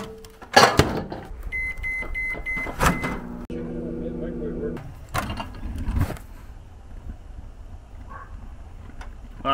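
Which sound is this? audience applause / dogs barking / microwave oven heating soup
microwave oven heating soup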